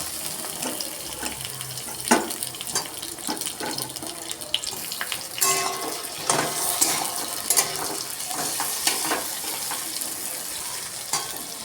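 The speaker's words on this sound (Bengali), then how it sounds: "তার মধ্যে আমি দিয়ে দেবো হাফ সেদ্ধ করে রাখা গাজর আর আলু ডিমের দমেতে। এইটা এবার এর সাথে ভাজা হবে।" Half-boiled carrot and potato added to reddish fried onion in a pan for egg curry, sizzling and frying softly with scraping stir clicks and clatter, close by and without talk.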